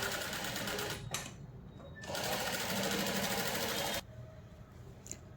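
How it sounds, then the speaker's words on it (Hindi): A sewing machine stitches the waist belt of a nauwari saree in loud, close bursts of rapid needle clatter, with short pauses between runs and a quieter stretch at the end. "एग्जैक्ट उसी सिलाई पे दूसरी सिलाई देती हूँ और वेस्ट बेल्ट लॉक करती"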